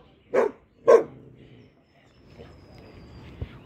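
A dog gives two sharp, moderately close barks about half a second apart, followed by quieter background sounds and a faint thump.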